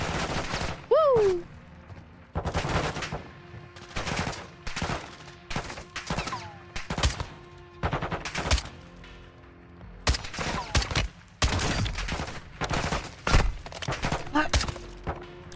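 Rapid bursts of video-game gunfire in Call of Duty: Modern Warfare II, with loud automatic volleys and single shots coming in clustered salvos, short gaps between them and a few whooshing effects layered on top.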